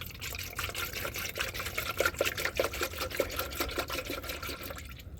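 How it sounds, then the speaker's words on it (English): Pre-mixed 50-50 coolant pours steadily into the radiator of a 1989 Blazer, a continuous close liquid gurgle and splash with small bubbling pulses, loudest midway and easing off near the end. "So I got the pre-mixed 50-50, and I'm going to pour it on in."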